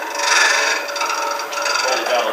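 A straight hollowing tool cutting inside a wooden vessel spinning on a lathe, giving a close, continuous scraping rasp that rises and falls slightly with the cut.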